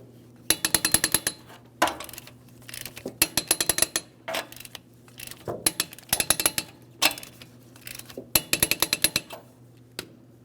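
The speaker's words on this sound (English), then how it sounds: "now I'm going to torque these to 76 foot-pounds in a crisscross manner" Ratcheting torque wrench tightening front wheel lug nuts to 76 foot-pounds on a 2003-2008 Toyota Matrix, in a crisscross order; close, sharp bursts of rapid clicks repeating about ten times with short pauses between, no talking.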